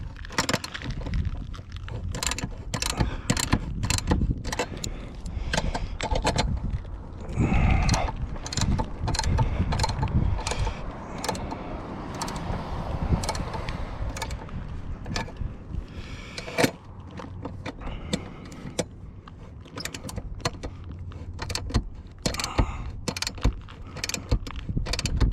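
A Starlink J-mount is tightened down on a roof with a wrench, producing a dense run of rapid ratcheting clicks and metallic knocks, loud and close, continuing steadily for about twenty-five seconds with no talking.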